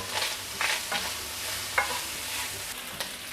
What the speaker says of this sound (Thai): เราจะผัดเบคอนให้หอมก่อนนะครับ พอเบคอนเริ่มแบบว่า มีกลิ่นหอมแล้วนะครับ ก็ใส่ มักกะโรนีไปนะครับ